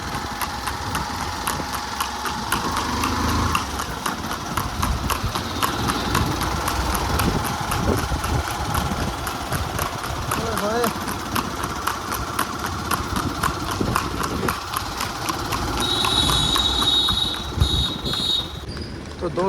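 A mare's hooves clip-clop steadily on a road for a long stretch, a regular close rhythm under idling and passing engine noise, with someone talking over it.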